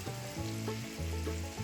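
Potatoes frying and sizzling in a pan for a country mountain breakfast, a steady close sizzle with a few stirring scrapes and thumps as they are flipped.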